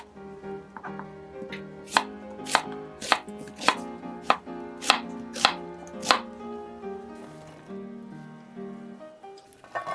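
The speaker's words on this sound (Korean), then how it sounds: "껍질을 벗긴 양파는 먹기 좋은 크기로 자르세요." A knife chops a peeled onion into bite-size pieces on a cutting board, about a dozen crisp, evenly spaced cuts in a steady rhythm, close and clear, then tapering into quieter handling with no talking.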